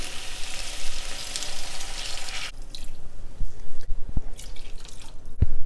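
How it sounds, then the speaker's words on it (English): Hot water pours into a hot pan of chicken curry, a steady splashing rush with a sizzle, then quieter drips and stirring clicks as the flow stops. "Now I have hot water going in."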